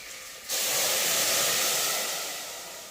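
Water pours into a hot pressure cooker of sautéed vegetables, setting off a sudden loud hiss that holds steady and then slowly fades, with no voices.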